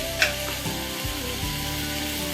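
Dal with a bay leaf is stirred in a hot pan on a raised flame, giving a steady close sizzle broken by a few scraping stirs and clinks.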